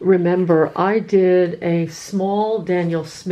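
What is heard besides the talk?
None of the usual background noises is heard.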